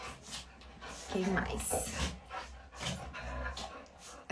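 Restless female dogs pant and fidget indoors during an evening livestream, with a person speaking over them throughout at moderate, close range.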